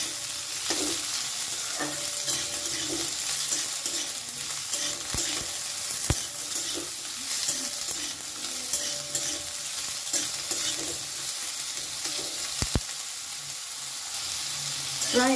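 Ridge gourd pieces stir-fried in a pan over high flame, with a loud continuous sizzle and frequent scraping strokes of the spatula, plus a couple of sharp knocks against the pan.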